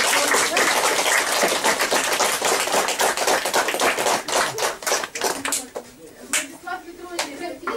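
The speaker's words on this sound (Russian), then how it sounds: "Аплодисменты Александру Петровичу" An indoor audience at a library event for a writer's 80th birthday bursts into dense, loud clapping that thins out into scattered claps and fades.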